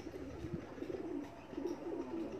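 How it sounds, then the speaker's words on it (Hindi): A Teddy-bloodline pigeon coos in low, throaty, repeated murmurs that rise and fall steadily over faint background hiss, with no talking. "देखें ये हमारा 8वां कबूतर है"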